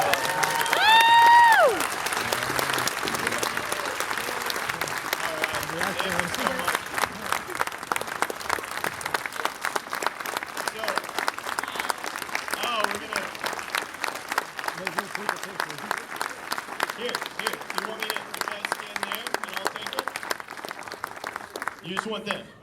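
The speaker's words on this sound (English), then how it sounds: "Give these guys a huge round of applause." A crowd at a Dawn of the Dead film panel at the Alamo Drafthouse breaks into long, dense applause with some cheering, loud and sustained for about twenty seconds before tapering off, with a voice heard at the start.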